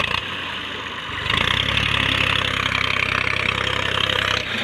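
A tractor with a loaded trolley is stuck on a sand dune. Its engine idles, then revs up sharply after about a second and holds a strained, throbbing drone before easing off near the end.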